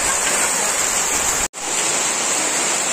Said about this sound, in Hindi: देखो बारिश इतना जोर जोर से आ रहा है